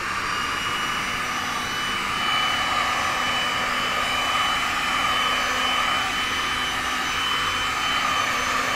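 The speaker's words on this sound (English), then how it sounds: "Now usually with this heat gun, I will push the resin around" A heat gun blowing hot air over StoneCoat resin in an art pour: a loud, steady whooshing roar with a faint tonal whine, holding constant for several seconds with no talking.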